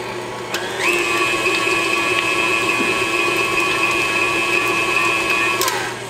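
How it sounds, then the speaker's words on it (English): A stand mixer creams butter for gingerbread, its motor whirring up to speed and then holding a steady high whine with a beater hum before winding down. "Let's get over to the mixer. Okay, the first thing we need to do is cream our butter."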